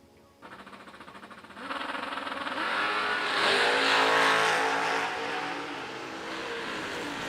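Drag-racing cars, among them a Chevrolet Camaro hot rod, launch from the line with a rising engine roar that swells into a loud, sustained scream, then eases slightly as they pass into the distance.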